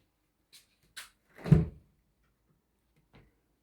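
A household door is opened near a balcony at home: a few light clicks, then one louder close knock of the door moving, followed by a faint click, with no talk.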